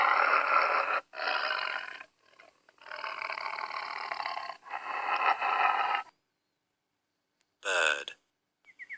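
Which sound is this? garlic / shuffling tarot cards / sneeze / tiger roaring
tiger roaring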